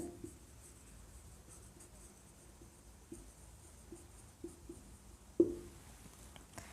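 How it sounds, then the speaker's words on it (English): Pen handwriting on paper during an English grammar lesson. Faint, close scratching strokes run steadily, with a few small taps and one sharper knock near the end, and no talking. "For example, let me just write, oh Jitu, take this letter."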